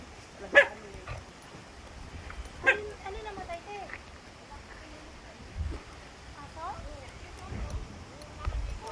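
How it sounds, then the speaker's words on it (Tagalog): A dog gives a few sharp barks and yips, interspersed with whimpers, against a quiet background with soft voices. "Oh, kawawa naman yung aso ko."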